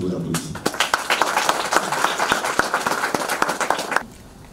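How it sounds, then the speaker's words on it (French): An audience at a CGRAE meeting with the Ivorian diaspora in New York applauds to welcome the Consul General, with dense, lively clapping for about four seconds before it cuts off abruptly. "Je vous applaudis."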